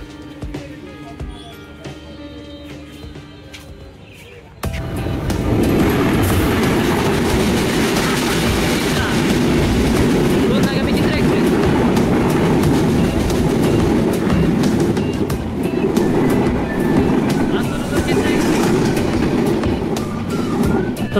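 The Ekota Express passenger train pulling away from Jamtoli station in Bangladesh, a quiet cabin suddenly giving way to a loud, sustained rumble of carriages on rails with rhythmic wheel clatter.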